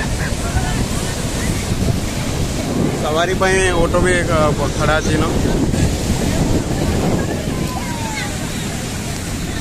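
Ocean waves breaking on the beach at Puri make a continuous, loud surf roar mixed with wind buffeting the microphone, while someone talks briefly partway through.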